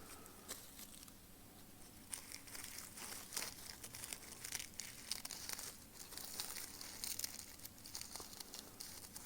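Scissors snip through dry shed snake skin at close range, giving a steady run of crisp crinkling and tearing crackles with no talk.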